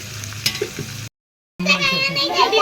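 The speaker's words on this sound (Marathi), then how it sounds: "आता हा कांदा भाजून घेते गुलाबी होईपर्यंत" Onion frying in a pan until pink gives a close crackling sizzle with light stirring. It cuts to half a second of silence, then returns louder and busier.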